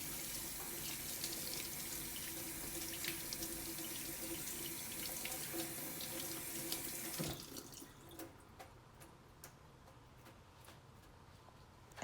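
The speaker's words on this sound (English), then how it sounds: "Then you turn the water back on and rinse your hands." Tap water runs steadily from a faucet into a sink while hands are rinsed, a constant close splashing hiss that cuts off abruptly partway through, leaving faint drips and small clicks in a quiet room.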